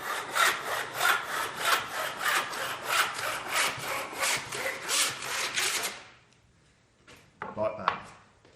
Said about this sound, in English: And we ensure that saw is dropping straight through our piece of timber.